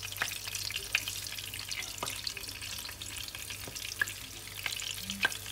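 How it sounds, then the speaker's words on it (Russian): Seasoned food, salted and peppered, sizzles quietly in a frying pan with a steady, soft crackle broken by a few sharper pops and clicks, and nobody speaks. "Он у нас идет на сковородочку. Будет томиться сейчас."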